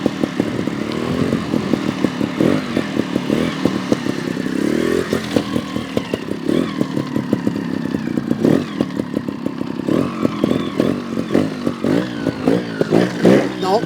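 A GasGas TXT 300 trials motorcycle working through a slippery backyard obstacle course, its engine popping and revving in sharp, uneven bursts close by, with throttle blips, clattering and scraping as it climbs and balances.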